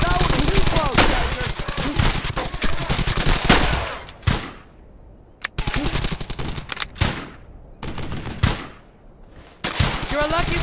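Heavy gunfire in Brothers in Arms: Hell's Highway, bursts of machine-gun and rifle fire cracking loudly in rapid clusters with brief pauses, while soldiers shout over the battle.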